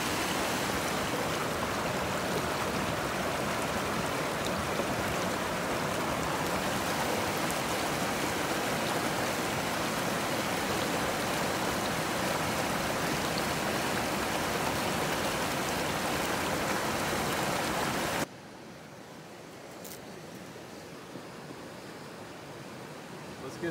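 The shallow Greenwater River stream rushes loud and steady over a rock as it is rinsed, a dense unbroken wash of water that drops suddenly to a quieter trickle near the end.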